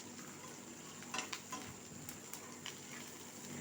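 Onions and curry leaves frying in a pan while being stirred, a faint soft sizzle with a few light spoon scrapes and taps against the pan.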